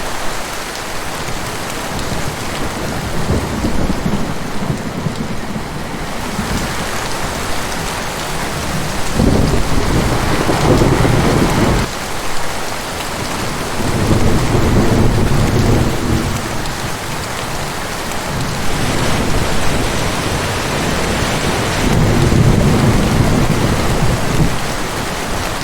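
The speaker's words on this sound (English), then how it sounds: "This is a thunderstorm, one of nature's most spectacular, yet terrifying, displays of power." Heavy rain pours steadily throughout a thunderstorm, with several deep rumbles of thunder rolling in and swelling over the downpour, loud and with no voices.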